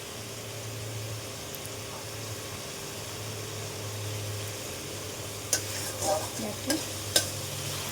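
Mixed spice paste sizzling in a pan for vegetarian pea ghugni, a steady soft hiss with a few stirring knocks near the end and a brief spoken word.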